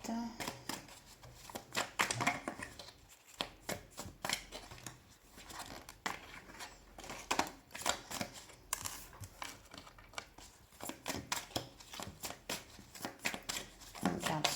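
Tarot cards being shuffled and drawn by hand, with repeated riffling bursts and soft slaps of cards, close up, while a person talks throughout.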